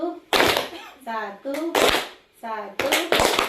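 In a school planning session, a group plays a counting clap game for ice-breaking: bursts of clapping in unison alternate with chanted calls, sounding rhythmic and close.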